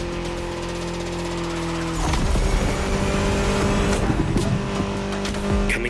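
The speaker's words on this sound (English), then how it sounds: "Back with the BMW M4 Liberty Walk Edition." A BMW M4 Liberty Walk Edition races in the video game The Crew Motorfest, its engine giving a steady, close drone that swells into a louder, busier roar after a brief shift partway through.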